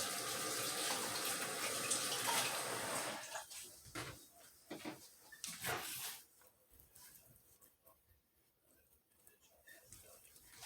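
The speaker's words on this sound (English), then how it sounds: "I want to wash my hands." Kitchen tap runs steadily for about three seconds as hands are washed during cookie baking, then cuts off, leaving faint scattered clatter and handling noises nearby.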